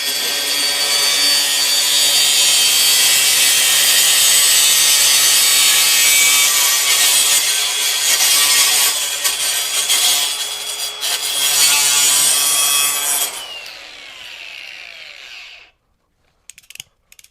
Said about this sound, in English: the grinder we're using is the Flex 24-volt brushless